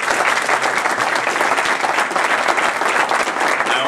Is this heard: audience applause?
yes